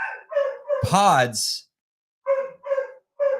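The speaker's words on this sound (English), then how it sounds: "Hopefully you can't hear the dogs going crazy in the microphone." Dogs bark excitedly in short repeated bursts at a doorbell, some distance from the microphone, with someone talking loudly over them.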